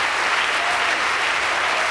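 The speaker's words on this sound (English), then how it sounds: "Loud applause" Loud, dense applause from an audience after a talk on resisting surveillance, sustained evenly throughout with no voices on top.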